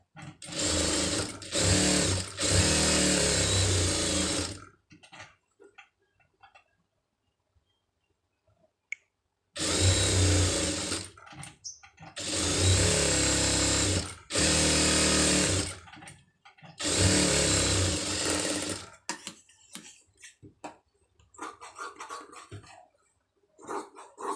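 Sewing machine stitching piping around a garment sleeve, running in three loud close bursts of rapid steady whirring separated by quiet gaps with small clicks and handling noises.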